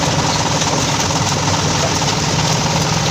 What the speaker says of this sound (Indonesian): ini kita melihat mesin pemilah sampah terpisah secara otomatis